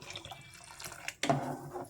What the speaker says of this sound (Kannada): ಈಗ ನೀರು ಎಷ್ಟು ಬೇಕೋ ಅಷ್ಟು ಸೇರಿಸ್ಕೊಳ್ಳಿ